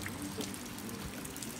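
Rain falls steadily outdoors among garden plants, a soft, even hiss and patter with faint scattered drips, continuous and fairly quiet with no voices.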